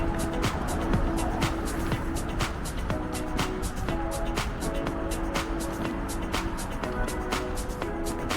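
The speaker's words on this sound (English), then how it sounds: "oh, these are all luxurious cars." Cars drive past on a busy Moscow street, a continuous traffic roar with repeated passing whooshes and sharp clicks, while people talk nearby.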